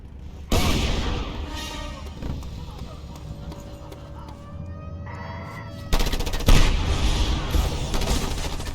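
Video game gunfire from a sawed-off shotgun, loud broadband blasts at the start and again near the end amid chaotic combat noise and a lingering battle din.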